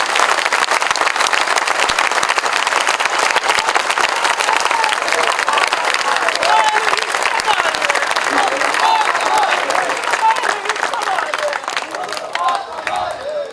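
Dense, sustained clapping and cheering from a crowd at a Pakistan Sarzameen Party workers' gathering at Pakistan House in Karachi, loud and continuous before tapering off at the end.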